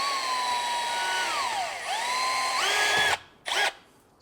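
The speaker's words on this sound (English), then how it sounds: "Now you're gonna drill a small hole." A power drill bores a small hole into the rusted rear differential seal of a BMW E46 M3, a steady high-pitched whine that sags and recovers in pitch under load, then stops abruptly with a short second burst near the end.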